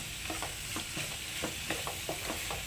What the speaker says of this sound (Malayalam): ഇഞ്ചി വെളുത്തുള്ളി പേസ്റ്റ് ഇട്ട് കൊടുക്കാം